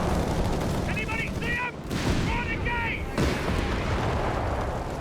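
M3 Grant tank firing its two guns in the video game Company of Heroes 3: heavy booming shots and rumbling battle noise with a couple of distinct blasts, while a voice is faintly heard in the mix.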